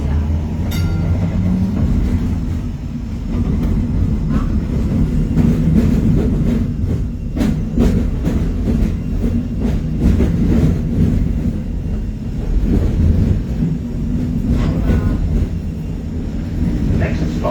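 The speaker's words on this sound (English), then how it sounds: "Yarra Trams hopes you're enjoying your ride on the City Circle tram." A Melbourne City Circle tram run by Yarra Trams rolls along its rails with a loud, continuous low rumble, broken by scattered clicks and clatters from the wheels and track.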